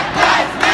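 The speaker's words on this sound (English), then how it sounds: "It's just such a large march" Loud, dense roar of a large protest march crowd, voices blending into a continuous close-up swell with a rising shout near the end.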